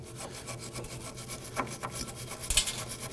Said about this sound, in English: Now I'm going to use a bristle brush.